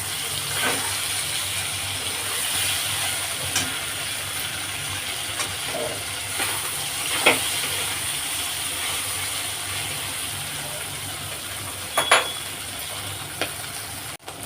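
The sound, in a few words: stirring fish in hot oil in a pan, sizzling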